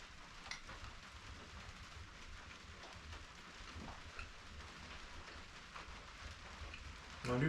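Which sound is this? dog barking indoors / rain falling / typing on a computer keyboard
rain falling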